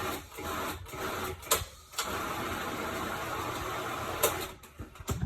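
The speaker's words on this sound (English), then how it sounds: "Let the machine do the mixing." A stand mixer works a thick meatloaf mixture of ground meat and breadcrumbs, giving a steady mechanical motor whir broken by a few brief clunks and pauses.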